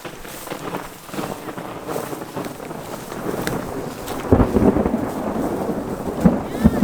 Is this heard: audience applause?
no